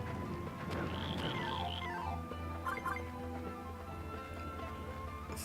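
Frog enemies in the Wonder Boy: The Dragon's Trap video game make croaking, chirpy game effects over a busy bed of game music, with rising and falling tones repeating through the scene.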